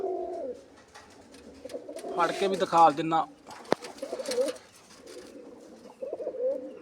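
Pairs of breeding pigeons coo at a sale of paired birds, soft repeated throaty coos close by, with someone talking over and between them and handling sounds in the middle.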